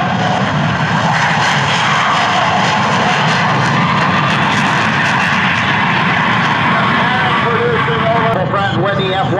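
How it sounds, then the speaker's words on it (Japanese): An F-35B Lightning II fighter jet takes off at an air show on a Japanese air base, its engine a loud, continuous roar throughout, with an announcer speaking over it. "F-35B ライトニング2が離陸します"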